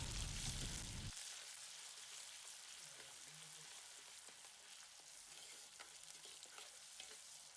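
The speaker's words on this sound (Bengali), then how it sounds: "তেল আমাদের গরম হয়ে গেছে। বেটে রাখা পেঁয়াজটাকে এর মধ্যে দিয়ে দিলাম।" Ground onion paste hits hot oil with a loud burst of crackle, then settles into a steady, softer sizzle with occasional stirring taps, heard up close without speech.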